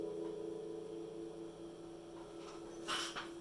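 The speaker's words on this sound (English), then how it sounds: "if you can hear the slight hiss in the background" A homemade replica of Brian May's little Deacy speaker amplifier, fed by a bench power supply, gives off a faint steady hiss and low hum, quiet and constant, with a brief soft knock near the end.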